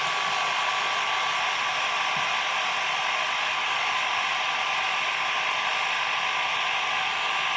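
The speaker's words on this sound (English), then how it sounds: "we're going to get the heat gun and just on a low setting" A heat gun on its low setting blows a steady, even hiss with a faint whine while it melts the top of a candle, continuous and close with no talking.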